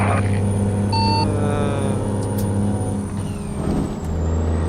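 A two-stroke diesel truck in American Truck Simulator rumbles past nearby with a deep, loud engine drone, a brief high tonal hiss like an air brake early on, and a dip as it goes by.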